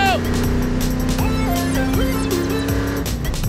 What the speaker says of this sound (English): I can't believe I'm driving a real race car!